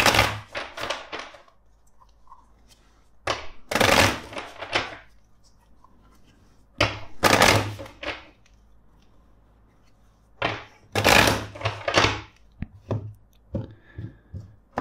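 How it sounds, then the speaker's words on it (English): Tarot cards being shuffled by hand, a repeated riffle of papery card slaps in four distinct bursts separated by quieter pauses, close and fairly crisp with no talk. "let's shuffle the deck."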